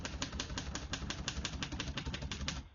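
Rapid, steady clacking of keys on a 1947 Royal Quiet De Luxe portable typewriter, about five or six sharp strikes per second, close and alone, stopping abruptly near the end.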